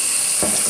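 Tap water runs hard and close as a Hamilton Beach Meal Maker Express grill plate is rinsed out after a salt scrub, a steady hiss with a brief splashy surge midway.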